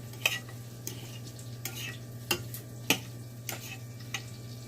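Chicken wings being stirred with parmesan seasonings in a pan give a string of sharp clinks and scrapes at uneven intervals over a low, steady hum and faint sizzle.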